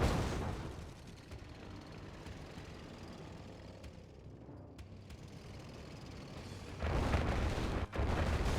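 Tank battle in a strategy video game, with rumbling booms and artillery-like blasts washing over continuous low battlefield noise, swelling into a louder burst near the end.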